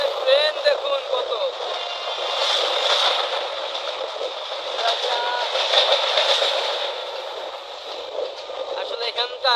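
Steady rumble and rattle of a train running on snaking railway tracks, heard from on board, continuous and fairly loud with a voice talking over it.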